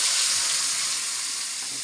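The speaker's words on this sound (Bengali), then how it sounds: "কড়াইতে এই তেল দিয়ে দিছি, সামান্য লবণ দিয়ে দিলাম। এই যে দেখো, এবার করলা দিয়ে দেব।" Bitter gourd frying in oil with a little salt in a wok, giving a loud, continuous close-up sizzle and hiss that holds steady throughout, with no voices.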